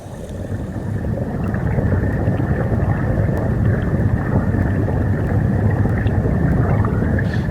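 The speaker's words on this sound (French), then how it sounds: "Donc c'est un bruit de fluide comme ça assez sourd." A dull, muffled rushing wash recorded by hydrophone fills the space continuously, low and heavy like fluid moving underwater, with faint clicks scattered through it.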